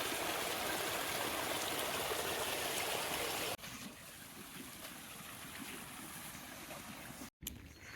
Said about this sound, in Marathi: आता आता वावरात सोनकेत जाईल सगळं पाणी